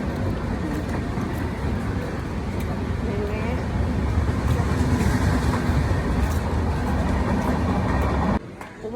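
A train rumbling across a bridge, heard from on board as a loud, continuous low roar with faint rhythmic clatter that drops off abruptly near the end.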